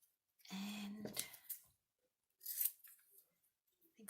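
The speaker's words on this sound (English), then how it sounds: "think I'll use the bigger scissors." Scissors snip through a brown paper bag in a few short, crisp cuts with pauses between them, close and fairly quiet.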